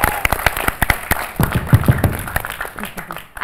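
A TV show studio audience on a Malayalam comedy programme breaks into a short burst of lively clapping and applause, close and fairly loud, with no words spoken over it.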